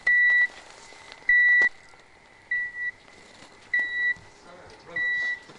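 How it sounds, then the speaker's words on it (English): An avalanche transceiver worn for heli skiing in the Himalaya emits five loud, evenly spaced electronic beeps, each about half a second long, with quiet background noise between them. "It emits a loud beeping sound which helps pinpoint a skier's exact location if buried in a snowpack"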